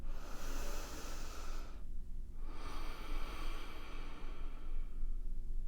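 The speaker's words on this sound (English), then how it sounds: "you need to slow down by moving into long, slow, deep breathing" Long, slow, deep breathing, one drawn-out airy inhale or exhale, a short pause, then another long breath, close and hissy, with no talk.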